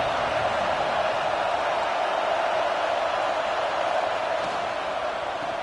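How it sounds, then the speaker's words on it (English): A stadium crowd at a game keeps up a steady, dense roar of cheering and noise, unbroken and fairly loud, with no single voice standing out. "This crowd ready to make its presence known."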